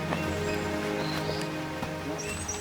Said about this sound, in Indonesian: Langit tampak menintikan hujan